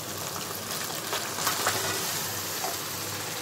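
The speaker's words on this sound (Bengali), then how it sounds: "সব মাংস একবারে ঢেলে দিলাম।" Yogurt-marinated mutton tipped all at once into hot spiced oil, giving a loud, dense, continuous sizzle close by with a few crackling spikes as it settles.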